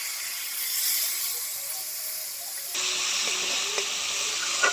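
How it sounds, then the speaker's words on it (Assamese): Masala for an Assamese chicken curry simmering after water is added, a continuous close sizzle and hiss, shifting midway to a wetter bubbling with a few light utensil taps. "তো মই অলপমান ইয়াতে পানী দিছোঁ, দি পেলাই অলপমান সিজিব দিছিলোঁ মছলাটো"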